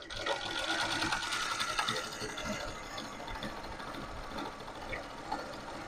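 A zig zag sewing machine with a loosened spring doing bead stitching, running in a steady rapid mechanical whir with rhythmic clatter, close and continuous throughout.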